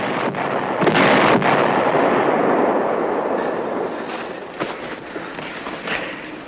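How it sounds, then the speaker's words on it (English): American artillery barrage in a World War II TV drama, a loud, dense roar of distant rumbling blasts and thuds that rises early and then slowly fades, with sharper cracks scattered through it. "American artillery starting its barrage."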